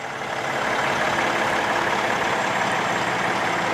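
A 2020 Peterbilt 567 truck with an X15 Cummins turbo diesel runs steadily, giving a broad, constant engine roar with a hissing edge that holds at the same level throughout, close by and with no talk.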